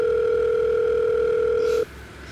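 Steady electronic telephone tone during a call, a continuous two-pitch hum that cuts off abruptly near the end, leaving quiet room background.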